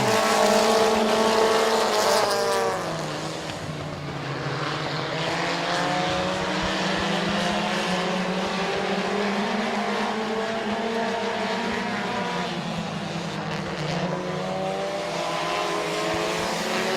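Race cars roar around the Midvale Speedway oval in a dense pack, engines droning and shifting pitch together as they sweep through the turns, loud and continuous, with a louder pass at the start.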